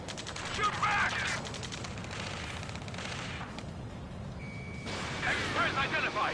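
Bursts of rapid gunfire crackle through a battle in Ace Combat 7, under layered shouted voices and radio chatter, with a thin electronic tone joining near the end.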